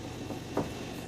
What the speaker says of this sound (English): Sorry about the noise behind, it's my convection oven that's getting hot for that.